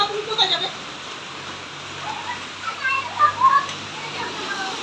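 Rain falls steadily outdoors, a constant soft hiss across the whole stretch, with children's voices rising over it now and then.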